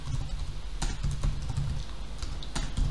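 Fingers tap quickly on a computer keyboard, close and clear, an uneven rapid patter of key clicks with a few heavier strokes, no voices.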